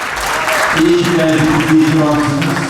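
Audience applause at an evening restaurant event in Antalya, a steady wash of clapping underneath a voice talking loudly over it the whole time.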